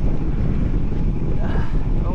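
Strong wind buffets the microphone during a long bicycle ride, a loud, continuous low rumble and rush without pause.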